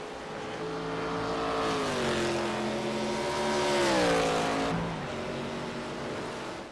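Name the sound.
ARCA stock race cars racing at Watkins Glen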